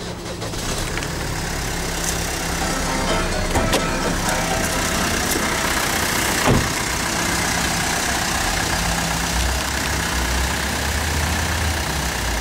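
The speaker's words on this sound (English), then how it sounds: "I will just start the car up for you actually, Gunther." A car engine runs at a steady idle throughout, a continuous mid-pitched rumble with occasional faint clicks and no voices.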